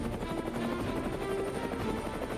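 Indian Air Force helicopter flying during a supply-drop mission to a remote village, a steady, loud rotor and engine drone holding constant throughout with no talk.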